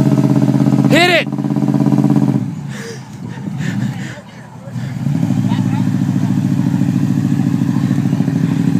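A lifted Toyota Tundra truck's engine roars loud and steady while mudding, dipping briefly amid clatter and thumps before settling back into a sustained drone, with shouted voices over it.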